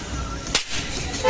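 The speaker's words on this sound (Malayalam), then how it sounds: "തീപ്പെട്ടിക്കുള്ളി പടക്കമായിട്ട് ഉപയോഗിക്കുന്നു" A single sharp crack of a matchstick firecracker popping cuts through a noisy, crowded street background during Onam festival shopping, followed by a brief lull.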